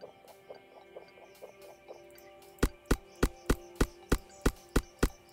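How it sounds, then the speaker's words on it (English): Trees being chopped in the Pixels video game: a run of soft, evenly spaced chopping ticks, then a louder series of sharp, regular chop hits, with no talk. "we're gonna start chopping those trees now"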